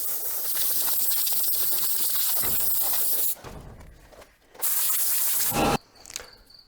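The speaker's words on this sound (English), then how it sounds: "finalize it by hitting that pre-screen with the compressed air" Loud, hissing blasts of compressed air blow debris off the pre-screen of an LS XG3140H tractor. A long continuous burst is followed by a second blast and a brief final puff, with short quiet gaps between them.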